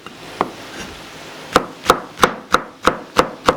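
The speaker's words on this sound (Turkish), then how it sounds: "Onu doğrayacağız." A knife chops a halved red kapya pepper on a cutting board while maqluba is being prepared, giving a couple of sparse knocks, then a close, steady run of sharp wooden chops.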